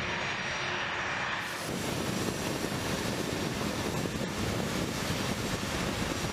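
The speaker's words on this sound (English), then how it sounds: "it is powered by two General Electric TF-34 GE-100 turbofan engines" Two General Electric TF-34 turbofan engines on an A-10 Warthog attack jet give a loud, steady, broadband roar with wind buffeting, growing fuller after the first second and holding without a break.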